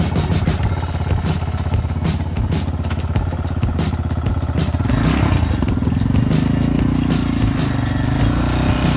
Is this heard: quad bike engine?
yes